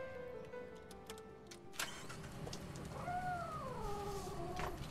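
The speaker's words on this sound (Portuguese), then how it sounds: "O que esse gato preto tá fazendo aqui dentro, gente?" A black cat gives a drawn-out, wavering meow midway, after a few sharp knocks and clicks, over a low rumbling background.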